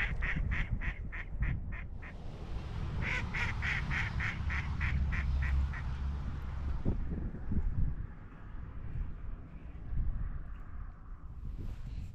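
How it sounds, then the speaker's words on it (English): Duck on Keweenaw Bay in December quacking in a rapid run of repeated calls, then a second burst a moment later, close and loud over steady wind and low rumble before fading to a quieter background. "Certainly that duck has something to say."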